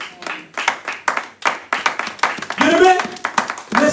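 A church congregation at a seminar claps to acclaim God, rhythmic hand claps that swell into applause, with voices speaking and calling out over them.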